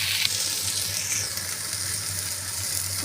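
Potatoes frying in a pan, a steady close sizzle with constant hiss and a low hum underneath, no talking.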